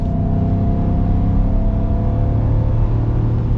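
A Ford Super Duty Tremor's 7.3L Godzilla V8 holds a loud, steady, deep rumbling idle with a smooth low drone throughout, close and continuous.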